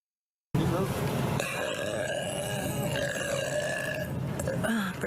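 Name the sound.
person burping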